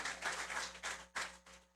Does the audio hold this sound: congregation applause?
yes